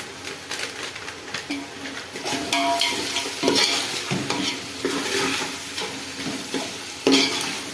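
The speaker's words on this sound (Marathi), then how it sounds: "चांगलं परतून घ्यायचंय" Chicken and biryani masala sauté in oil with mint nearby, giving a loud, steady sizzle and rapid scraping stirs that swell and ease, with a sharp clack near the end.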